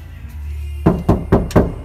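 Bare metal door panels of a Hyundai Starex van, interior stripped during a sound-insulation job, struck by hand: four sharp, ringing knocks in quick succession after a low hum, each with a short metallic resonance, close and loud.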